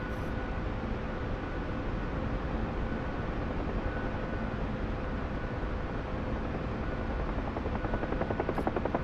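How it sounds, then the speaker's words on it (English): A modded AH-1G Cobra helicopter in a video game, flying with a steady, dense rotor and engine wash that stays constant throughout, with a faint rhythmic chop creeping in near the end. "somebody's made a modded helicopter, the AH-1, I believe it's a Golf, AH-1G Cobra"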